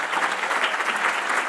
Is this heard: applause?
yes